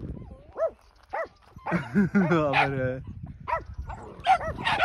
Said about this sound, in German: wird angegriffen von 4 kleinen Hunden